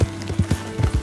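A horse gallops in the Red Dead Redemption 2 video game, with quick rhythmic hoof clip-clops in uneven pairs across a short stretch, close and fairly loud.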